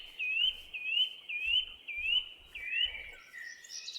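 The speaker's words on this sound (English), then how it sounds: "Can you hear the birds?" Birds in a modded Minecraft world give a run of five quick rising chirps in a regular rhythm, then a few softer varied calls, over faint low thumps and quiet background.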